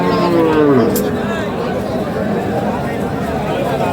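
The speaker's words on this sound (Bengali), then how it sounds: "এটা গাভী।" A dairy cow moos loudly and close by at a busy village cattle market in Khochabari, one drawn-out call over a constant babble of crowd chatter.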